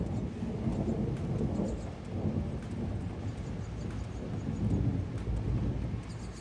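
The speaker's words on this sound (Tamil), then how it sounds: "க்ளவுடி தண்டர் சவுண்ட்லாம் கேட்டுட்டு இருக்குது." Thunder rumbles low and continuous through steady rain in Rayong, Thailand, a broad rolling roar that swells and fades over several seconds with no voices.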